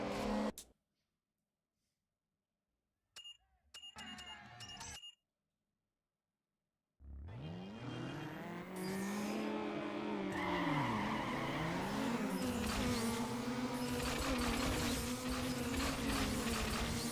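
Race cars roaring in the video game Need for Speed Underground during a drag race, engines revving with rising and falling pitch alongside tire squeal, loud and continuous after brief bursts and gaps of silence.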